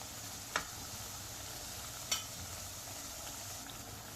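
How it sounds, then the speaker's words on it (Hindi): Sindhi besan tikkis shallow-frying on a low flame give a quiet, even sizzle, with two brief clicks as they are turned in the pan. "अब इन्हें आगे पीछे करके अच्छे से फ्राई कर लें"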